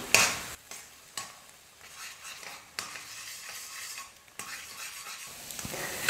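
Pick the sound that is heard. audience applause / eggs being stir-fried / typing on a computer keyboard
eggs being stir-fried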